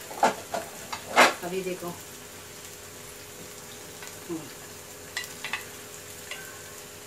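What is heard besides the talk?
ginger, garlic and tomato frying in a pan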